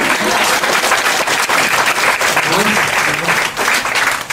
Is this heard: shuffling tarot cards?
no